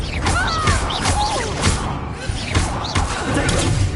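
Confringo blasting spells striking in Hogwarts Legacy, a dense run of loud thuds, crashes and whooshing impacts in close succession amid busy combat noise.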